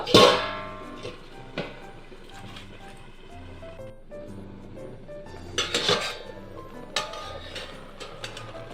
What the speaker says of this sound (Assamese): এতিয়া ঢাকোনখন মাৰি দিম।